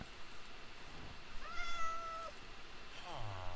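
A cat in the Minecraft video game gives a single clear drawn-out meow mid-clip, followed by a shorter second meow, over low game background noise.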